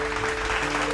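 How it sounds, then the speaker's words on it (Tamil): Brief burst of congregational hand clapping during a Tamil Sunday church service, heard over a steady low organ or keyboard drone. "கைதட்டுங்க"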